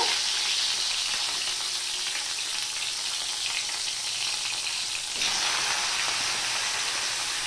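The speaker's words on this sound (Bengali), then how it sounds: "দিয়ে আমি উচ্ছেগুলো ভেজে নেব" Squeezed bitter gourd pieces fry in a pan with a strong, even sizzle and hiss, close and continuous, swelling slightly partway through.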